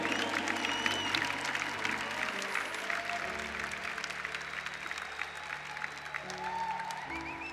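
An audience applauds as two people, Léo and Du, are called up, a dense steady wash of clapping at moderate level with crowd murmur and faint music underneath throughout.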